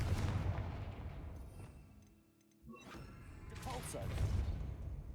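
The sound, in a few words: Confringo fire spell cast in Hogwarts Legacy video game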